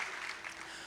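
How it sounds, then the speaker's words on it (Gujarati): Brief burst of audience clapping for the guru at a spiritual festival gathering in Surat, a dense, steady patter lasting under a second. "તાળી પાડીએ ગુરુજી માટે"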